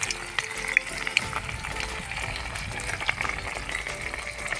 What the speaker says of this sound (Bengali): আর এখানে শুকনো লঙ্কা তেজপাতা দিয়ে দিচ্ছি।